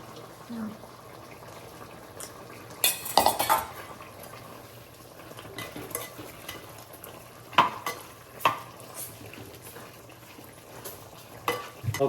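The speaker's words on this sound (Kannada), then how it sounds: "ಇದಕ್ಕೀಗ 1 ಸ್ಪೂನ್ ನಾವಾಗ ಮಾಡಿದಂಥ ಮಸಾಲವನ್ನು ಹಾಕಿ ಒಂದು ಮಿಕ್ಸ್ ಕೊಡುವ" A spoon stirs ground masala into food in a clay pot, giving intermittent scrapes and clinks over a low background hiss. A few sharper knocks stand out against the pot.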